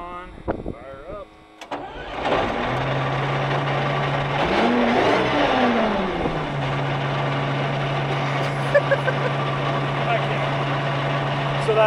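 An army tank engine cranks over and catches after a voice at the start, then roars up, surges briefly and settles into a loud, steady running drone close by.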